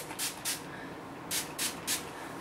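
Hair spray misted onto long hair in a series of short hissing bursts, two quick sprays and then three more after a pause, close and fairly loud over a quiet room hiss.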